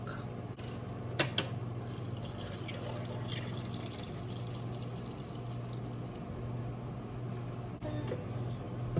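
Milk being poured into a pot for tomato soup, a soft continuous liquid pour running for several seconds, close and quiet over a low steady hum, with a couple of faint knocks.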